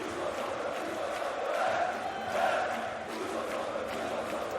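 Large arena crowd at the BLAST CS:GO Major Grand Final between Vitality and GamerLegion, a dense roar of cheering that swells twice and then settles, heard from a distance and filling the whole space.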